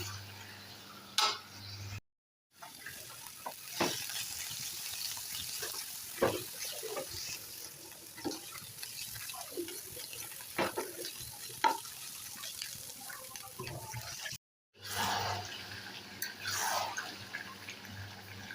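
Chicken frying in spice masala in a pan while it is stirred, with steady sizzling and scraping and a few clinks, fairly close, with brief breaks and no talking.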